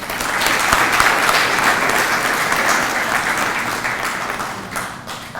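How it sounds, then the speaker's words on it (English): An audience applauds at an inaugural IEEE session on the Internet of Things, with dense, sustained clapping close by that slowly fades. "Let us welcome him with a big round of applause."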